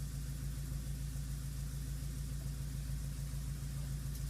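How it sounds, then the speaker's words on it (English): A Subaru EA82T turbo boxer engine running on a MegaSquirt MS3X setup drones in a steady, even low rumble close by, with a fine rhythmic pulse and no voices. "Alright, so let's get now into cranking."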